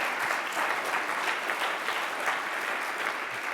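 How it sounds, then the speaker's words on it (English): An audience applauds Suzanne Shank on stage at a conference, a dense, steady wash of many hands clapping at moderate level throughout, with no voices over it. "We can give her another round of applause."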